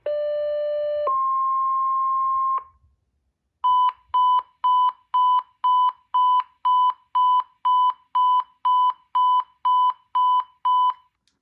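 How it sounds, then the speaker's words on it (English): A Kenwood NX-5000 series two-way radio plays custom alert tones: a brief two-pitch warble, then a held tone, followed by a fast series of about a dozen evenly pulsed electronic beeps, clean with no talking. "The first one that I did was warble, and then the second one I did was a pulsed tone."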